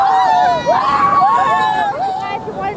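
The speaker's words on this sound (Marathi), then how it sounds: "जल्लोष।" On a Konkan beach, a group playing the Atyapatya game lets out loud, close, continuous shouting and cheering, with several excited voices overlapping.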